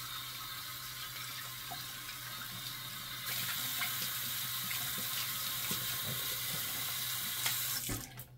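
Tap water runs steadily into a sink while a Stirling shaving soap puck is rinsed under it, a close constant splashing that grows louder midway, then the flow is cut off near the end.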